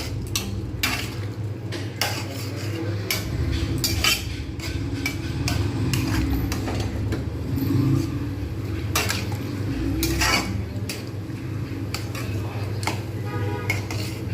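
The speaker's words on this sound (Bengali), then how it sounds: "এবার এর মধ্যে কর্নফ্লাওয়ারটা দিয়ে দেবো এটা ঠিক হয়ে যায় নাড়তে হবে নাহলে কিন্তু তলায় দলা পাকিয়ে যেতে পারে" Sauce with cornflour being stirred in a pan, a steady run of spoon scrapes and clinks against metal over a low cooking rumble, close and fairly loud, with no talk.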